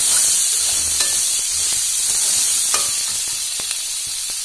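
Maize dough sizzles and fries in a pan as it is stirred, a steady close hiss with light scraping strokes throughout.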